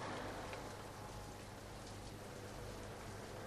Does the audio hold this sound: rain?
yes